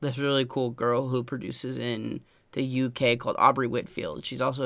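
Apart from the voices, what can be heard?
No everyday noises stand out.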